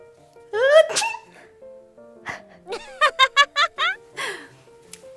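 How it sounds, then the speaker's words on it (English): A single loud, close sneeze from a person after a nose tickle, a sharp wet burst, followed by several bright, rhythmic voiced bursts that may be talk or play sounds. "Wow, that was a big sneeze."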